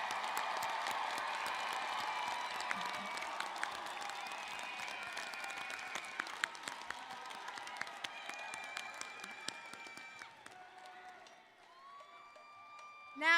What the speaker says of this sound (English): Let's have one more round of applause for our master's and specialist graduates.